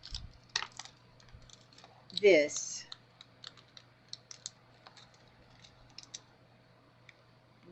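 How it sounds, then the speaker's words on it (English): Scissors snip open a small plastic bag of diamond-painting parts at a craft table, one close crisp cut amid light clicks and rustling, with a person talking quietly. "and so then we just snip the bag off"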